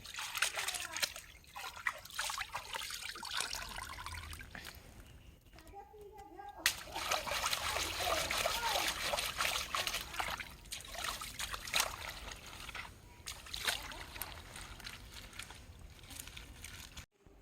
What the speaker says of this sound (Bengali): মাছ ধুতে চলে যাচ্ছে দেখতে পাচ্ছ মাছ ধুচ্ছে